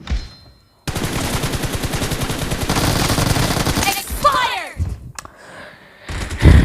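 Rapid automatic gunfire from the PUBG Mobile video game rattles in a dense sustained burst for several seconds, then breaks into scattered shots and ricochet-like whines, loud and close, with someone talking over it.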